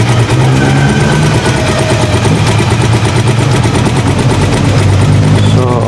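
A motorcycle trike engine idles loud and close with a steady, rapid chugging throb that runs unbroken, while a voice talks faintly in the background.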